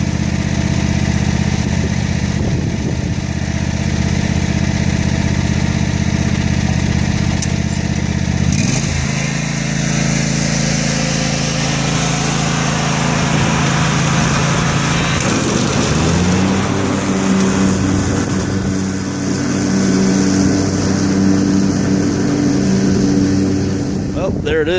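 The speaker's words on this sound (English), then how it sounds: "See if we can get a more level and more accurate cut out of this mower deck." A riding lawn mower with a freshly adjusted mower deck cutting grass, its engine droning loud and steady up close throughout, with the pitch dipping and shifting as the load changes, plus some wind buffeting.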